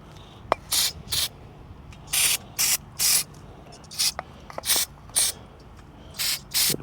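Brake parts cleaner sprayed onto a motorcycle fork during fork seal replacement: a string of short, sharp hissing bursts, about a dozen, each around a quarter second long with small gaps between, close up and without talk.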